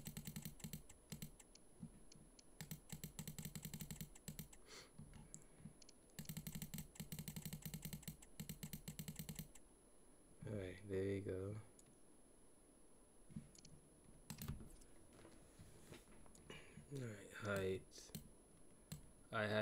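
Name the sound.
typing on a computer keyboard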